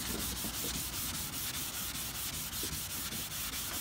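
Dry sandpaper rubbing back and forth over a spray-painted tank surface, a steady close scratchy rasp with regular strokes, no voices.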